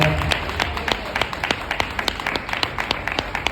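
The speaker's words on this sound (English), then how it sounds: "if you're happy and you know it, clap your hands" An audience claps hands at a Dr. Martin Luther King Jr. Day celebration, a steady run of sharp, fairly close hand claps in a quick, slightly uneven rhythm with no talking.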